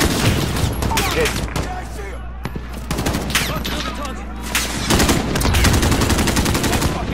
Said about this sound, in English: You're really shooting at me right now